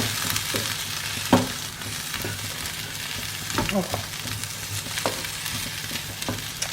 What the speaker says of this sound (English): I'm just going to give it a mix and cook that off as well.